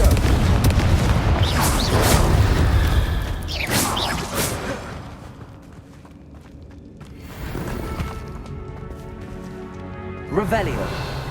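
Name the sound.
explosion spells Bombarda and Confringo in Hogwarts Legacy video game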